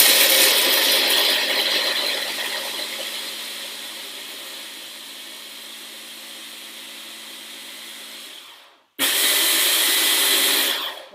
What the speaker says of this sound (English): We're using a hand blender here, just because it's smaller.